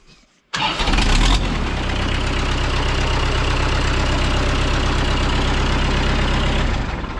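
Starter motor of a Kubota tractor cranking the engine after a click, a loud rapid rhythmic churning that continues steadily for several seconds before easing off.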